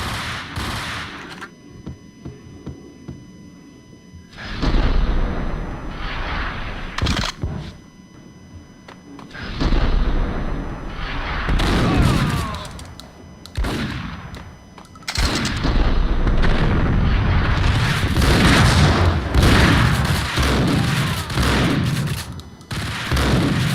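Loud bursts of gunfire ring out in Max Payne, rapid shots and fusillades coming in clusters with short quieter gaps between them.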